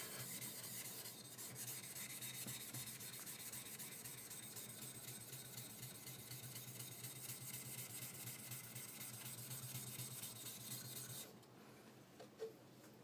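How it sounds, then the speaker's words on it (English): A steel skiving knife edge being sharpened, a steady close rasping rub running continuously for about eleven seconds before stopping, followed by a couple of faint clicks in near silence. "I'm sharpening the inner core of the steel, so that's getting it bigger"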